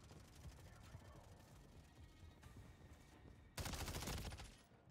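Rapid game gunfire on the Highrise map of Call of Duty rattles steadily at moderate level, then a louder, denser burst hits near the end, with faint voices mixed in.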